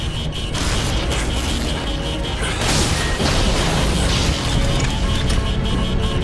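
Secondary explosions tear through a spaceship's engineering section as its sublight drive overloads in a sci-fi series. Loud, dense rumbling and crashing continues throughout, with a heavier burst surging in partway and sustained roaring debris noise afterward, and no voices.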